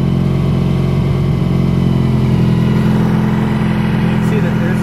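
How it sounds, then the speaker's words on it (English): A 1986 Honda VF 1000 R motorcycle engine warming up after years in storage, running steadily with a loud, even low rumble and slight throttle, close by and continuous. "I'll give it just a smidgen of gas. It takes just a little bit for it to warm up enough till I will idle."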